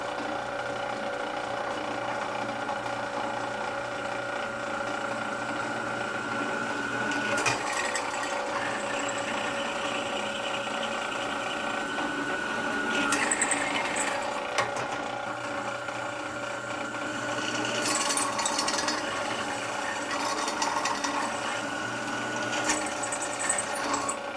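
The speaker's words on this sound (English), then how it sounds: "Just drill 2 holes." A steady mechanical whir of a drill boring holes in metal for a homemade rollercoaster cart, running continuously, with a few brief higher-pitched bursts as the bit cuts, close and fairly loud.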